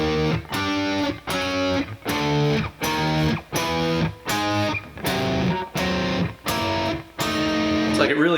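A distorted electric guitar harmony from a bridge riff plays clashing flat-fifth intervals in about ten chugging, evenly spaced chords with a loud, gritty tone and no talking.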